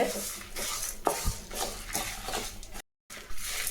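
Spices for kara kuzhambu powder dry roast in a pan as a spoon steadily stirs and scrapes them, making a continuous dry rustling with a few louder knocks and a brief cut to silence near the end.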